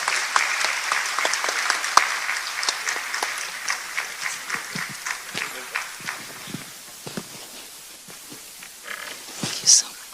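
An audience at an investment forum in Yokohama applauds, a dense spread of clapping that swells, thins a little and carries on for several seconds.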